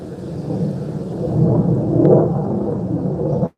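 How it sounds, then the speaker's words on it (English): A low, heavy roll of thunder swells and rumbles for several seconds during rain, loud and close, then cuts off abruptly. "It's like thunders, whatever."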